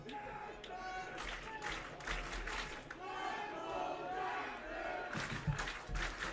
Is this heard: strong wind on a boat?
no